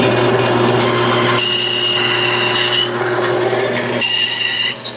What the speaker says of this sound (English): Now we're gonna cut this out on the bandsaw